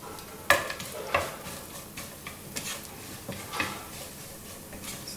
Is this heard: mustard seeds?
yes